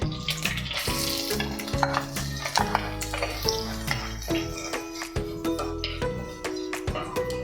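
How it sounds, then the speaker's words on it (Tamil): Finely chopped large onion with fennel and curry leaves frying in a pan, a soft sizzle under busy clinking and scraping of the spoon, with steady tonal background music throughout and no speech. "வெங்காயம் நல்லா வணங்கட்டும்."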